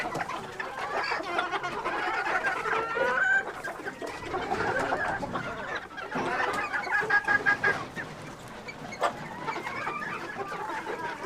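Several chickens cluck and murmur nearby on a cold day, with short squawks scattered through a busy, continuous coop chatter.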